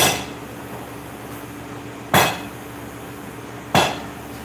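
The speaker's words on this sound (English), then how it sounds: "That's a mild steel anvil, by the way. And he's forging 4140." Two sharp metallic hammer strikes land on 1-inch 4140 steel being forged on a mild steel anvil, ringing out over a steady background hum at an uneven interval.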